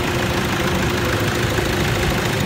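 A 2011 Toyota Hilux turbo diesel engine runs steadily after a restart, giving a continuous close rumble with a faint rhythmic knock and no speech.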